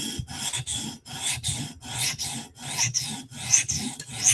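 A Chris Reeve Umnumzaan tanto knife blade is drawn across a sharpening stone in steady rasping strokes, about a dozen even passes close up with short pauses between them and no talk.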